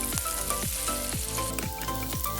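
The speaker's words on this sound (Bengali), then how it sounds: "এবার সেদ্ধ আলুগুলোকে হালকা লালচে করে ভেজে তেল থেকে তুলে নেব" Boiled potatoes frying in hot oil in a kadai for aloo dum, giving a dense, continuous close sizzle with repeated soft spatters and pops, with no voices.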